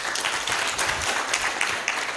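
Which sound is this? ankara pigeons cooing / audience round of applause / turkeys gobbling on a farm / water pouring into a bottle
audience round of applause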